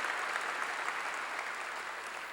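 A church congregation claps together during a sermon, a dense, even wash of applause that stays steady and fairly soft for a couple of seconds with no voices over it.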